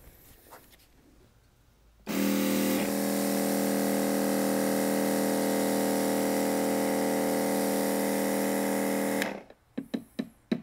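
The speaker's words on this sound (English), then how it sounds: "turn on the sprayer and cycle it through so I get all the juice through the line here" An electric garden sprayer pump switches on abruptly and runs for about seven seconds, a loud steady whine with a hissing spray, then cuts off, leaving a few faint clicks and knocks in a quiet outdoor setting.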